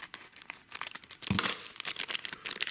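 An old Pokémon card gum pack wrapper being torn open, with close, quiet crinkling and one sharper rip midway, surrounded by soft rustling of the foil-like paper.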